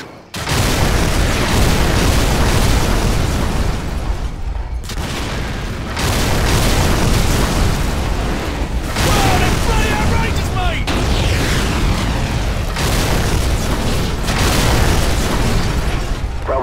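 Repeated heavy artillery blasts in Call of Duty: Modern Warfare (2007), loud booming explosions rolling almost continuously in several long waves with brief gaps between them, while radio-style voices talk over the barrage.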